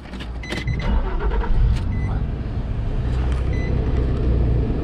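A Nissan Xterra with high mileage starts up: the starter cranks briefly and the engine catches into a loud, rough idle that carries on steadily close by.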